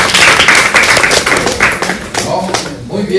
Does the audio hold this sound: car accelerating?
no